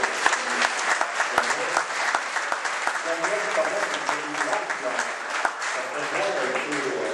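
Audience applause at a debate, a dense stretch of clapping that stays fairly loud for the full length, with a voice speaking over it.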